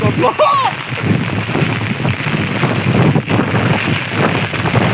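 Strong headwind buffets the microphone with a loud, steady roaring rush in heavy rain outdoors, the gusty noise filling the whole stretch while a voice briefly calls out near the start.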